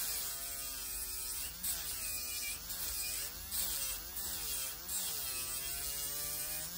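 Electric nail file buffing the corners off builder gel nails, a steady high-pitched motor whine that wavers and dips in pitch as pressure changes, close and continuous with no talking.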